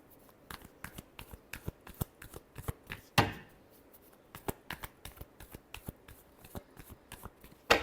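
A deck of playing cards is riffled repeatedly in quick, crisp bursts at close range, with one louder full shuffle partway through and no voices over it, set during a tarot-style reading.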